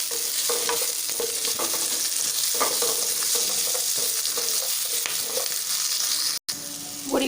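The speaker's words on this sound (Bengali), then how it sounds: "আমি এর সাথে একটু বড়িগুলোকে ভেজে নেব, যেটা আগে আমার শুকনো কড়াইতে ভালোভাবে নাড়া আছে।" Bori lentil dumplings fry with vegetables in a pan, giving a steady loud sizzle with repeated scraping and stirring strokes throughout, one brief cut near the end.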